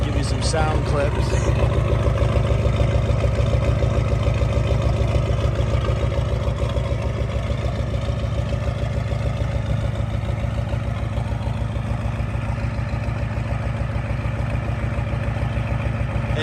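A Ford OBS 7.3 Powerstroke diesel idles steadily after a cold start in low idle mode, following a long spell with dead batteries; a loud, even, rumbling drone runs throughout with no talking over it.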